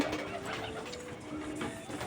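Soft, repeated pigeon cooing close by, low throaty calls continuing steadily over a faint background hum.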